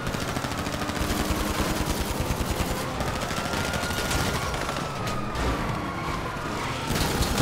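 Dense, continuous automatic gunfire in GTA 5, rapid bursts and shots layered over one another at high volume, with a few sharper cracks and no pause in the shooting.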